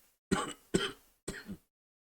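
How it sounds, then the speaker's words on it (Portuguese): Three close, separate bursts of coughing and throat clearing from one person, each short and rasping, with clean silence between them and after. "tá tossindo bastante"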